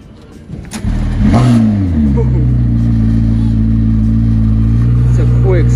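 A sports car engine at Monterey Car Week, likely among McLarens such as a P1, starts with a quick crank and settles into a loud, steady, rumbling idle close by.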